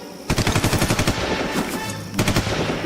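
Rapid machine-gun bursts from a radio drama battle scene, two sharp rattling volleys, loud and close, with no talk over them.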